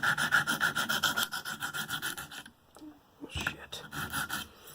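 Knife blade tips, on a Spyderco M4 Manix, are ground on a KME sharpener with steady back-and-forth rasping strokes up close, pausing briefly before the rhythmic scraping resumes.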